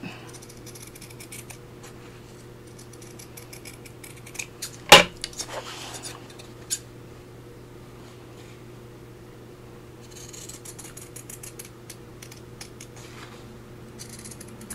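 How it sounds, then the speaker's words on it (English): Sewing scissors cut paper along a pencil line at a crafting table, producing soft snipping and sliding blade sounds in scattered bursts, with one sharper clack of the scissors set down and a steady low hum behind. "just cut that with my sewing scissors, and just cut along that pencil line that I made"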